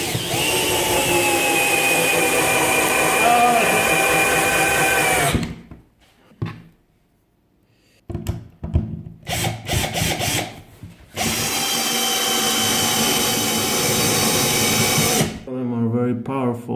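A Parkside cordless drill (PABS 12 B2 or PABS 20 LI C3) drives screws into wood in long, loud whirring runs with short gaps and a brief burst between them, close up, with people talking around it.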